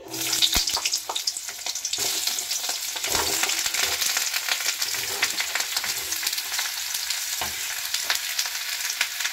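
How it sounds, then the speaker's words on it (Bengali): Pieces of cut pumpkin hiss and crackle in a wok of hot oil, a dense, even sizzle that carries on without a break and sits close and clear, with no voices. "ওই একই কড়াইয়ে কেটে রাখা কুমড়োগুলো দিয়ে দিচ্ছি।"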